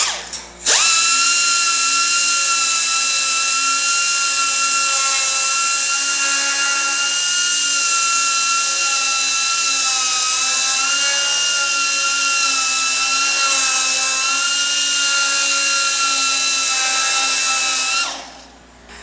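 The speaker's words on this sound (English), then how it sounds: "we'll switch over to some 80 grit, smooth this out a little bit more" A power sander with 80 grit paper grinds pitted steel on a GTO body, a loud continuous high-pitched whine that spins up, holds steady for about seventeen seconds, then winds down.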